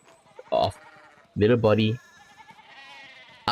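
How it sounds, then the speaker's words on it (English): Sheep bleat in the medieval game Pentiment, short, loud wavering cries, a couple of separate calls close by with quieter ambience between. "we need to get these sheep under control"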